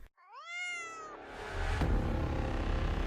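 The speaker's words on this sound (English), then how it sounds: "a black cat appeared, sitting close to Jacob and meowing loudly" A black cat meows loudly and close, one long rising-falling meow, followed by a burst of broadband rustling noise.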